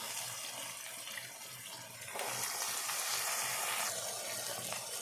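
Washed chickpeas go into a frying pan while cooking chana with egg, giving a steady wet hiss and sizzle that grows louder partway through as the water hits the hot pan, close up with no talk.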